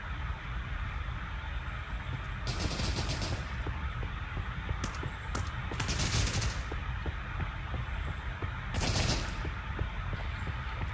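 Distant gunfire crackles through the prison-break mode of the VR shooter Pavlov VR, with scattered sharp shots and several louder bursts over a steady background hum.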